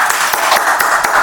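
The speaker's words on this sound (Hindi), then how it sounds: "पहले तालियां तालियां बजाओ सारे" Students in a classroom clap together in a dense, steady burst of applause, many hands at once, fairly loud and close, with no talking over it.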